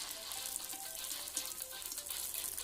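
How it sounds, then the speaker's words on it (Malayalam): Arabic kameera bread drops into hot oil and fries with a soft, steady sizzle and faint bubbling, close but quiet, with no talking. "ഇതിലേക്ക് കമീറ ഇട്ടെടുക്കാം. ഒന്ന് ഫ്രൈ ചെയ്ത് പോരാം."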